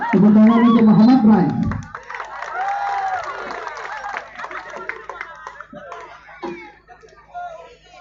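Audience applause and cheering for Muhammad Rai at a public entertainment event in Aceh, a loud burst at first that fades into scattered clapping and crowd chatter, with a voice on the loudspeaker at the start.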